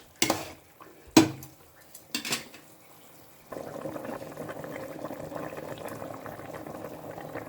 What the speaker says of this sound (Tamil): நல்லா தண்ணி கொதிக்கிட்டுங்க